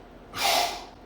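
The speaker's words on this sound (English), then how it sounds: "Deep breath in." A single sharp, deep breath drawn in through the nose and mouth during a goblet squat, close and clear, swelling and fading within about half a second, with no talking.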